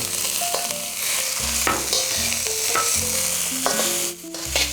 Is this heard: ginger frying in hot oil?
yes